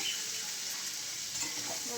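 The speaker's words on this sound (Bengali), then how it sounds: "পেঁয়াজটা লাল লাল করে ভাজা হয়ে গেছে এবার লুচিটা ছেড়ে দেবো তেলের মধ্যে" Browned onions and taro stolons (kochur loti) fry in hot oil in a pan, giving a loud, close, continuous sizzle that holds steady throughout without any voices.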